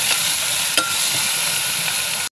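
Chopped onion frying in hot oil with cloves, black pepper, cinnamon and bay leaf while being prepared for prawn rice, giving a steady close sizzle with a brief stir partway through and no talk.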